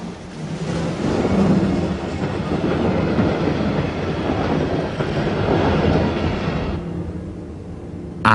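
A steam locomotive train running, a steady loud rumble with rhythmic rolling and clatter that holds for several seconds, then drops abruptly near the end.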